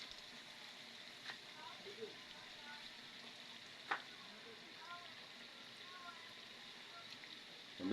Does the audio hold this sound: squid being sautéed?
yes